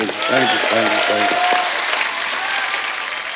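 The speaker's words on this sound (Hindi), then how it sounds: "जोरदार तालियां तो बनती हैं।" An audience on a televised Hindi comedy talk show breaks into loud, sustained applause, a dense wall of clapping that stays strong throughout, with a brief voiced tone near the start.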